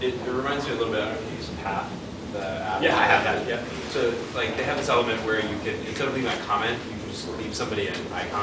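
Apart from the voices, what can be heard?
No everyday noises stand out.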